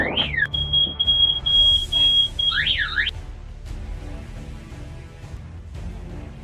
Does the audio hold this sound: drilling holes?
no